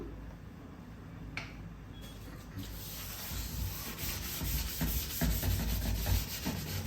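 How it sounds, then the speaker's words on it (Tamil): Oil being rubbed across a dosa griddle pan, a steady scratchy swishing that builds and grows louder, with rough strokes and brief clicks near the end. "இது ஃபுல்லாக ஒரு இடம் விடாமல் நல்லா எண்ணெய் தேய்ச்சிக்கோங்க"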